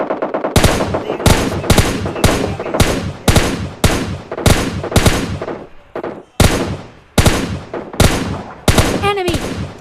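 Rapid automatic gunfire from PUBG Mobile Lite, loud, close bursts of repeated shots filling most of the stretch, with brief pauses between volleys and a short rising in-game tone near the end.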